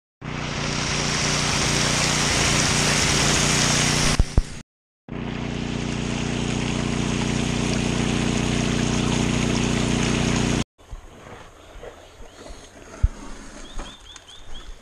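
Water rushing steadily through a gold prospecting sluice as the cleanup mats are washed out, a loud continuous wash that cuts off briefly, resumes, then drops to quieter trickling and scattered knocks.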